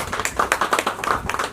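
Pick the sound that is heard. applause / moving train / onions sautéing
applause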